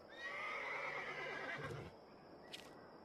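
A horse whinnies loudly in the fantasy online game Runes of Magic, a long, bright neigh followed by a short snort and a faint clop or tack jingle, alone with no speech.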